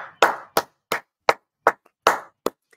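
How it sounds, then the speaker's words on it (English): A sound-effect button fires a string of seven crisp, isolated hand claps at a mock graduation, each sharp and close with short silent gaps and a slightly uneven rhythm. "So, do you have that clapping button?"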